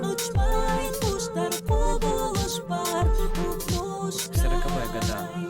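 Song plays with a steady thumping beat and a sung melody over layered instruments, full and continuous throughout.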